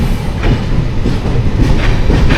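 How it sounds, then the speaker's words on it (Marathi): The Diva–Ratnagiri passenger train pulls away from the station, a loud, close, steady rumble with rhythmic wheel clatter and faint squeals, with no voices. "आणि इथून सुटली ट्रेन."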